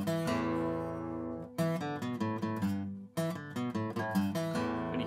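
A bluesy guitar lick in the open E blues scale, played alone as a run of plucked notes with ringing sustained tones, a brief pause around the midpoint and then a second, busier phrase.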